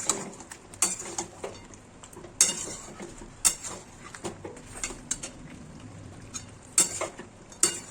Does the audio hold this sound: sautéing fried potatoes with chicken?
yes